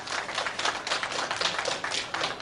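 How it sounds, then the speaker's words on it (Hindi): Hospital medical staff clap to welcome an 80-year-old woman discharged after recovering from Covid, a soft, steady patter of many hands at middle distance with no talk over it. "मेडिकल कर्मी ने तालियां बजाकर उनका स्वागत किया"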